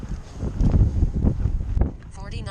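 Gusty wind buffeting close to the microphone in loud, uneven bursts, easing off toward the end.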